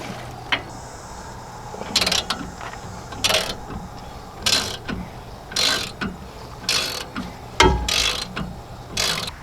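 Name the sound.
ratchet loosening nuts on a truck suspension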